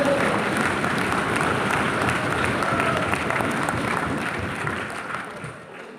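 A large audience at a national poets' gathering in Vigyan Bhawan bursts into loud, dense applause to welcome a poet to the stage, sustained and steady for several seconds before easing slightly at the end.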